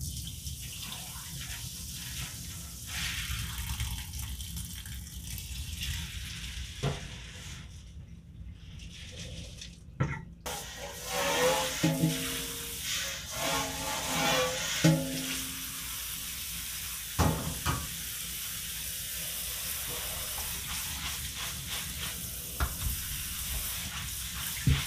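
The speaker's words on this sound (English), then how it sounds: "Just let that grain drain in the strainer there for a couple minutes." Wheat grain for mushroom grain spawn drains and is rinsed in a kitchen strainer: a continuous watery hiss and trickle with a few sharp clatters and splashes, no voices.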